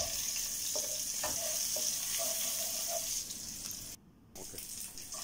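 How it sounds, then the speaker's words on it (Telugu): Ginger, garlic and green chilli frying in a pan for chicken fried rice, a steady close sizzle with scattered stirring scrapes, briefly dropping out near the end. "సో అవి ఫ్రై అవుతున్నప్పుడే గ్రీన్ చిల్లీ కూడా వేసుకుని బాగా ఫ్రై చేసుకోవాలి."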